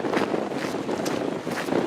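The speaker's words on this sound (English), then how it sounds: "Oh, it's windy here." Wind gusting across an exposed Scottish hillside on the West Highland Way near the Devil's Staircase. It roars and buffets the microphone in uneven surges, with no talking.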